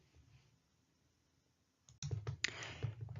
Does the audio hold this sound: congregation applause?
no